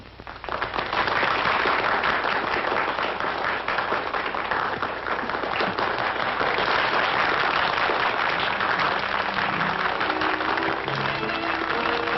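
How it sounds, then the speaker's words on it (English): Dense crowd applause in a stadium, a loud, continuous roar of clapping from many people that holds for the full stretch with no talk over it, carried on a narrow, old-sounding soundtrack. "Listen to that applause."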